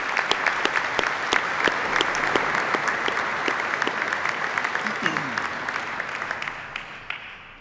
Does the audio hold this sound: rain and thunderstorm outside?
no